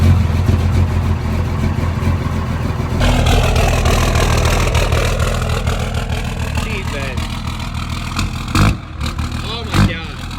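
A Cummins diesel truck engine in an El Camino-style car runs loud and close, a steady low rumble with a shift partway through and two sharp bursts near the end, while voices talk over it.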